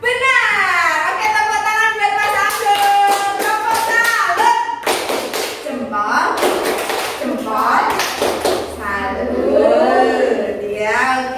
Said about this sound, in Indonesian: tepuk tangan buat Mas Agung